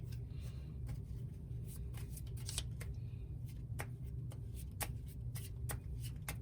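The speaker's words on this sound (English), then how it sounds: "shuffle the top 3 cards of the discard pile into the deck" Board game cards being shuffled into a deck, a soft run of quick riffling flicks and taps, close and quiet over a low background hum.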